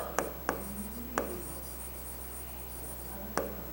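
Pen or marker writing out the factors of 4 on a board, heard as a few sharp taps at stroke starts and a soft scratchy stroke between them, close and faint over a steady background hum.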